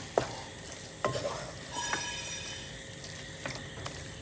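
Onions stirred into prawn roast in a hot pan, sharp spoon scrapes and knocks at irregular intervals over a soft continuous sizzle, close and without talk.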